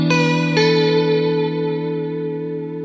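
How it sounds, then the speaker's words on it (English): A sustained electric guitar chord rings out with a second strum, washed in lush reverb that lets the notes hang and slowly fade. "Then this is a reverb."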